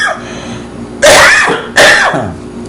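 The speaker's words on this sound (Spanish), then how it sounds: "Esta tosecita no me deja." Two loud, close coughs from a woman preaching a sermon, each a sharp harsh burst that trails off, about three-quarters of a second apart, with no talk between them.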